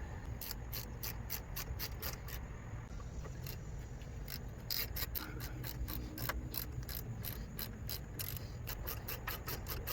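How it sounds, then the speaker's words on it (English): A T45 Torx bolt threaded into a brake caliper on a 2007 Ford E150 van, heard as a rapid run of faint ratchet clicks in quick bursts, close but quiet, with no talking. "So take your T45 Torx and go ahead and thread it in some"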